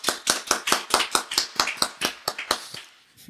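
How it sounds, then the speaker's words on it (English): A small group clapping together on a podcast set, about a dozen sharp, evenly spaced claps, close and loud, slowing and trailing off at the end. "Can we clap it up for Creative Roots?"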